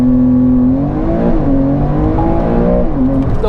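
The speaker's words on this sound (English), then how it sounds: "The way the motor revs" A Porsche sports car engine revs loud and close, its harmonic tone rising and falling through several throttle swells with no talking.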